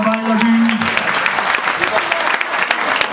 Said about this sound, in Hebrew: מחיאות כפיים לאנדרי